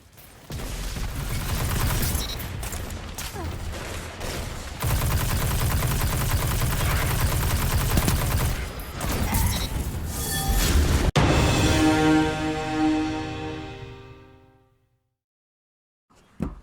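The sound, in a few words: auto rifle gunfire in a video game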